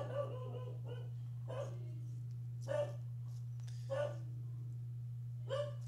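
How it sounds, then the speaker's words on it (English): A dog barking at distant fireworks, five spaced single barks about a second apart, somewhat muffled as if from another room, over a constant low electrical hum. "there goes my dog because he can hear the fireworks."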